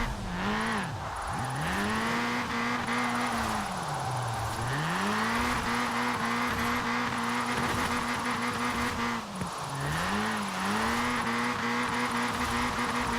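A Toyota Trueno AE86 Enjuku Racing Edition drifts in Forza Horizon 4, its engine revving hard and dipping repeatedly in rhythmic surges with a whining tone, loud and close with no talk.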